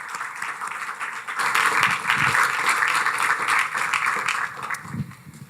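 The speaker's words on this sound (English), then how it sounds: "Help me give them a round of applause" An audience at an evening ambassador talk on world affairs breaks into applause, a dense wash of many hands clapping together that swells and holds steady before tapering off.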